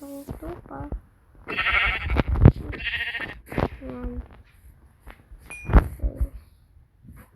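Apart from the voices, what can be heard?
sheep bleating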